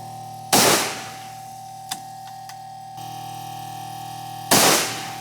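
Two sharp, loud reports from a fire forming rig shooting brass cases, about four seconds apart, each with a short decaying tail, over a steady mechanical hum and a couple of faint clicks in between.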